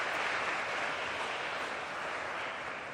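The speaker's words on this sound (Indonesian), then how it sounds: "tepuk tangan." A church congregation claps during a Sunday Mass, giving a dense, steady wash of applause that fills the whole stretch and tapers slightly toward the end, with no voices over it.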